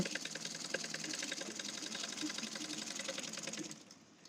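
A sewing machine runs a quarter-inch seam on a kaftan neckline in one steady, close, rapid hum, tapering off at the very end.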